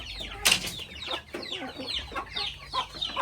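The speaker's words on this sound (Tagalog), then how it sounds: "tingnan mo dito manok mo" Native chickens clucking inside a coop on a farm in Antique province, a dense run of close, overlapping clucks and squawks with one sharp louder call near the start.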